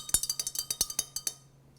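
A spoon clinks repeatedly against a glass while stirring yellow food coloring into warm water, about a dozen quick, bright, evenly spaced taps close by that slow and stop.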